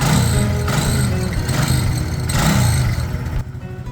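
A Honda C90 motorcycle engine running with its standard airbox fitted, loud and close: a steady mid-pitched idle with small rises and dips in revs, dropping away near the end.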